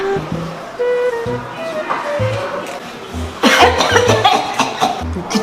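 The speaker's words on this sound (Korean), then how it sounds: "기침할 때마다 이거 어떻게 해?" An elderly woman coughs several times in short bursts, with talking around and between the coughs.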